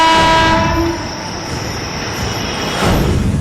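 A passenger train bound for Varanasi in India sounds its horn in sustained tones, then rumbles loudly along the rails with steady broadband noise and no voices.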